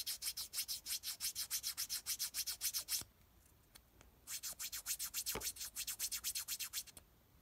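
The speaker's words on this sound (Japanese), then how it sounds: "フェイシング部分を軽く削ります" Rapid, even scraping strokes across the facing of a saxophone reed, a rhythmic rasping run that pauses briefly, then resumes with another quick series of close scrapes.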